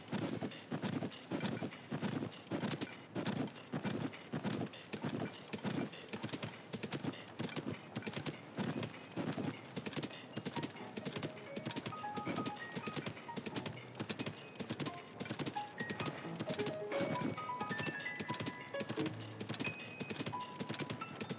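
A horse gallops at night in The Legend of Zelda: Tears of the Kingdom, its hooves making a steady, rapid clip-clop throughout, with the in-game music playing underneath.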